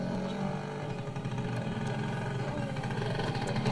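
Motorcycle arriving on a rural farm road, its engine a continuous rough drone heard at moderate distance and growing steadily present throughout.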